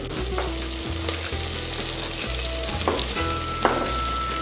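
Onion, tomato and carrot frying in a pan for a healthy amaranth-leaf coconut soup, with a continuous close sizzle, a low hum underneath and a few soft stirring scrapes, no talking.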